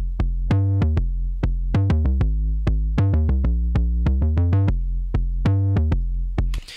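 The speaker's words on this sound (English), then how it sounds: "So this should be set up to run through my fuzz pedal." Electric guitar recorded through a fuzz pedal into Ableton, a bright, buzzy run of rapid picked notes and short phrases with steady rhythm, loud and close, no talking.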